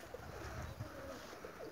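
Racing pigeons at a loft in Elbląg, Poland, cooing softly in low, rolling calls that run close by and steady over the whole short stretch.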